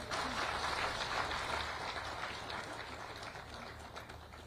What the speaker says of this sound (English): Let's give Irene a better clap.